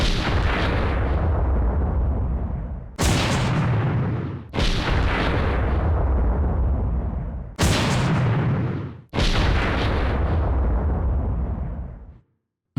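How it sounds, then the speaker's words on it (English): A weak weapon's explosions in the Resident Evil Zero video game, five loud booming blasts in a row, each decaying over a second or two before the next hits, with no talk. "it also seemingly has a weak explosion compared to a lot of them we've seen in the past"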